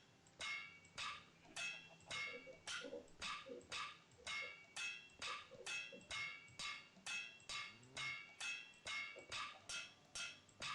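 A heavy hammer breaking blocks in modded Minecraft 1.12.2, a steady run of about twenty sharp, evenly spaced crunching strikes, each followed by a brief crumble, quiet and without talk.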